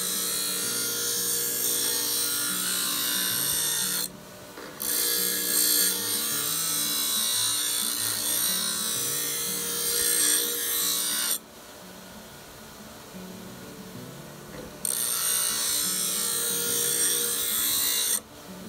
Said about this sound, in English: we're going to be moving it across the face of that grinding stone, just like that